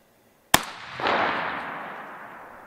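A rifle fires one sharp, loud crack during positional shooting practice at a target, followed half a second later by a broad rolling echo that slowly decays.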